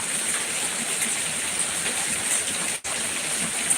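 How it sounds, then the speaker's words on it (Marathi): Steady rain falling in Latur makes a continuous broadband hiss, with a brief dropout near the end and no voices. "पाऊस चालू आहे लातूरला"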